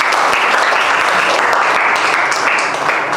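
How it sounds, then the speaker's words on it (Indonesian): A classroom of students applauding during a lesson, a loud, even wash of clapping that holds steady for a few seconds before easing slightly at the end. "Ya, tepuk tangan dulu."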